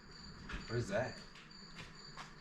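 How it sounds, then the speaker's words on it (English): Crickets chirp faintly in a quiet indoor space, a thin repeating trill under a brief spoken question. "Crickets? Crickets."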